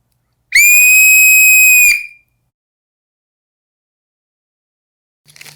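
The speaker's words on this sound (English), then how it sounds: "We're going to the classic referee style whistle, as I like to call it." A Seachoice ball-style referee whistle on a lanyard gives one loud, shrill blast of about a second and a half, alone in silence, with a faint click afterward.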